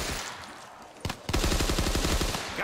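Rapid automatic gunfire in a first-person shooter on a pirate island map, a short burst then a sustained loud stream of repeated shots, with faint talk barely present.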